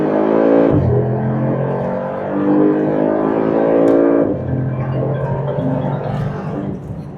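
A 2020 Mercedes-AMG G63 with a biturbo V8 roars loudly under kickdown acceleration, its revs climbing and dropping sharply at two quick gear shifts before pulling hard again, with no talking.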